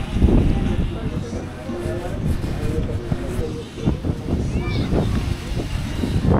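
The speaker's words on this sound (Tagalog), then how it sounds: "Ang lakas ng ulan." Heavy rain pours at a petrol station in Wawa, a dense, steady roar with gusting wind that never lets up. Voices murmur faintly underneath.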